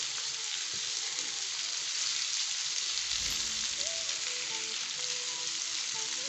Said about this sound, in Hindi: अब आप इसको मज़ीद फ्राई करेंगे